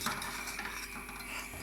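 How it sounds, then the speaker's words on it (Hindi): Spoon stirring spices into a turnip and chicken curry in a pot, a faint continuous scraping and rubbing of metal against the vessel. "अब हमारे इसमें फिरेगा चम्मच।"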